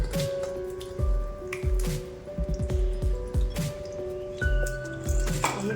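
Wood apple (bael) pulp is squished and strained by hand through a strainer into a bowl, giving wet squelching presses and drips in an uneven rhythm of roughly one per second, close and clear, with a faint hum behind.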